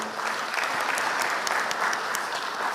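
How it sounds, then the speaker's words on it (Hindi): A crowd at a public development-works inauguration gives loud, steady applause to welcome the chief minister, continuous dense clapping filling the short moment without speech. "आप सभी से आग्रह है कि एक बार जोरदार तालियों के साथ माननीय"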